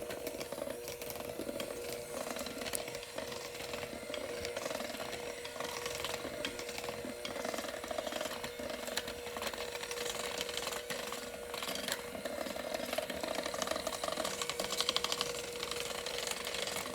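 A stand mixer on low speed blends gluten-free all-purpose flour into banana chocolate chip muffin batter, giving a steady mechanical whir and rattle that runs unbroken and fairly loud throughout, with no talking.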